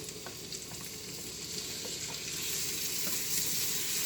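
Scallions and garlic sizzle with toasted almonds in a hot pan, a close, crackling fry with light stirring scrapes that grows slightly louder as it goes, with no voices.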